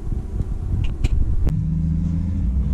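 2017 Ford F-250 Powerstroke diesel pickup pulling off while towing a trailer of nearly 14,000 pounds, a loud close low rumble that steps into a steady droning hum after a brief clunk, with no talking.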